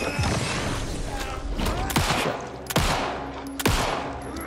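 Sharp, loud gunshots in Alan Wake 2, fired one at a time at irregular intervals roughly a second apart, each with a short echoing tail, over a low game backdrop.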